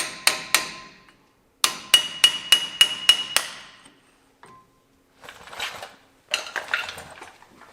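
Sharp metallic hammer strikes on the wheel hub dust cap of a worn Ford F250, two quick hits then a rapid run of six ringing blows, followed by softer scraping clanks, close and loud.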